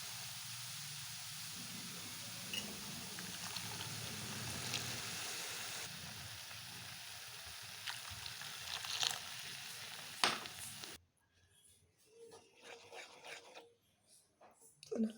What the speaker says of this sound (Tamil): இப்போ இந்த ஸ்டேஜில் நான் பால் ஆட் பண்ண போகிறேன். நான் காய்ச்சின பால் தான் ஆட் பண்ண போகிறேன்.